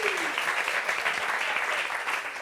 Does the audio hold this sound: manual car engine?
no